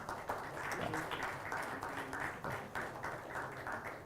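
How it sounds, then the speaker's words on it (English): Workshop audience applauding scientists at IIT Madras, a steady patter of many hands clapping at moderate distance, fairly even and sustained throughout with no voices standing out. "big applause to these scientists"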